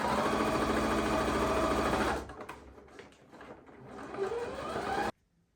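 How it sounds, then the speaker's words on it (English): A sewing machine runs steadily while stitching an elastic waistband, a dense, fast mechanical whir for about two seconds, then stopping and restarting in uneven shorter bursts before cutting off abruptly. "the elastic all the way to the edge of the tension in your waistband, and then you're sewing over."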